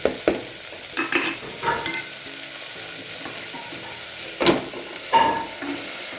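Colourful mixed vegetables coated in masala are stir-fried in a pan, with a quiet, constant sizzle broken by several sharp scrapes and clanks of a spoon stirring.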